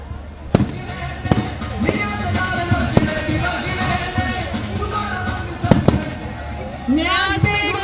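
Fireworks crackle and pop at a festive night celebration, with several sharp bursts standing out amid continuous crowd noise and talking, and a whistling rocket rising near the end.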